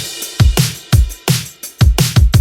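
Chorus drum pattern built from punchy, lively kick and snare samples with lots of cymbals and hi-hats. Hits are steady, loud and close, with bright washes of cymbal over them.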